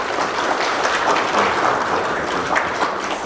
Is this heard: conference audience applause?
yes